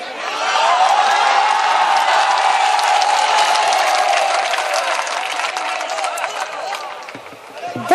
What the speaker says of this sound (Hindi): अगर आप सब सुनना चाहते हैं तो एक बार पूरा मजमा खड़े होकर तालियां बजा दे।